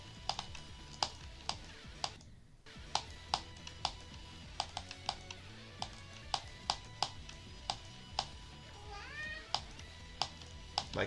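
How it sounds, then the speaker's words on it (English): A cat meows near a computer keyboard being typed on, with a rising tonal call late on standing out against a steady rhythm of sharp key clicks throughout. "My cat is meowing at me."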